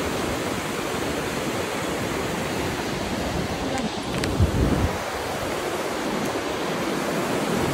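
Continuous rushing water of a hill river, a steady broad roar, with brief faint sounds near the middle.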